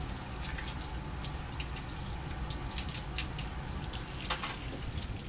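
Water runs steadily from a sink tap while KBr pellet press pieces are scrubbed, a soft continuous splash with scattered drips and brief scrubbing bursts, fairly quiet and close.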